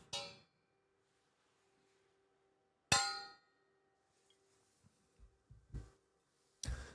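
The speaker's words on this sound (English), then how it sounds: "Raise your glasses up. I'm going to cheers myself." A cup clinks in a cheers toast, several sharp bright clangs ringing out separately in quiet, with faint softer knocks between them.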